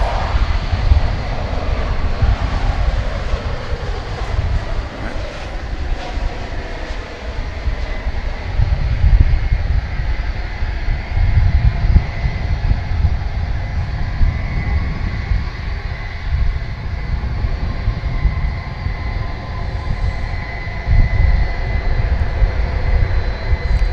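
American Airlines passenger jet on arrival from Sao Paulo at DFW Airport, a loud, steady engine roar with low rumble that swells and holds throughout, close overhead with no talk.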